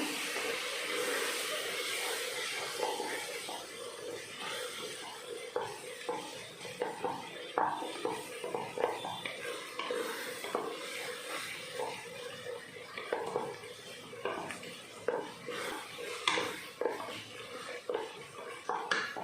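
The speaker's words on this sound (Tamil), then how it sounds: "மசாலாலாம் பச்சை வாசனை போகிற வரைக்கும் வதக்கிடலாம்" Masala with coriander powder and a spoonful of curd is sautéed in a pan for tomato rice, giving a soft, continuous sizzle with irregular clinks and scrapes of a spoon against the pan.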